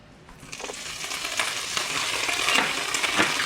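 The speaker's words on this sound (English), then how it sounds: "The oil is now hot, so I will add the curry leaves" Curry leaves hit hot oil for a Goan prawn balchao, a broad sizzle that swells steadily louder with crackling pops throughout, close and alone.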